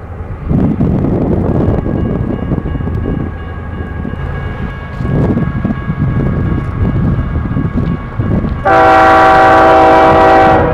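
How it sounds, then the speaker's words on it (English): An eastbound BNSF domestic intermodal stack train with a Norfolk Southern segment rolls past on an Arizona main line. It makes a loud, steady rumble of passing cars with some wind buffeting, and a sustained multi-tone horn blast near the end. "Here comes an eastbound domestic intermodal with a Norfolk Southern segment."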